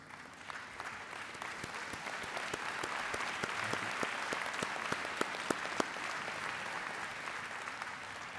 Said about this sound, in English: could all those presidents please stand and get a special round of applause